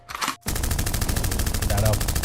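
Rapid gunfire sound effect played on a podcast, a dense string of loud repeated shots bursting steadily for about two seconds after a brief noisy lead-in.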